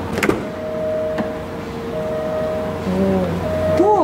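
Door of an Alfa Romeo Stelvio SUV swinging open, with a short latch click near the start followed by a steady low hum and faint whining tones, fairly quiet and close.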